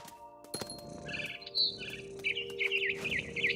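A mother bird chirping in the video game What Remains of Edith Finch, several high tweets and trilling calls near and moderately loud over a low ambient hum and faint rustles.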